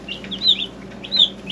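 Newly arrived chickens clucking in two short bursts of calls, fairly close, with quiet background between.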